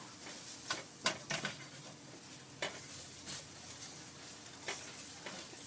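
Spices being stirred in a hot pan for homemade enchilada sauce, a steady sizzle broken by occasional scraping knocks of the utensil, close and fairly quiet with no talking.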